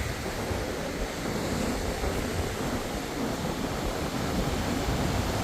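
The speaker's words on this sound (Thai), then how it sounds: "ลมแรงมากนะทุกคนนะ" Strong wind and surf at an evening beach make a dense, continuous roar, loud and close, with the wind buffeting the microphone and no speech.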